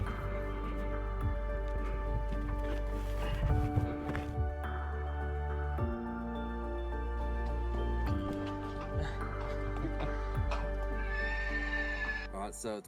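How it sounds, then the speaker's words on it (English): Horses in Colombia whinny loudly several times, with hooves clip-clopping intermittently and people talking nearby throughout. "We went for a ride on the horses."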